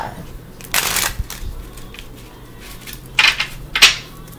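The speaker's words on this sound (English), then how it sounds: "Let me give one more shuffle" Tarot cards being shuffled by hand at close range, with short riffling bursts separated by pauses and a few soft taps, alone in a quiet room.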